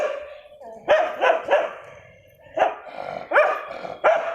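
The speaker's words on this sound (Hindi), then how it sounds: "ये भौंक रहा है तेरे को?" A dog barks repeatedly nearby in loud, sharp bursts, some in quick pairs, with a short pause midway.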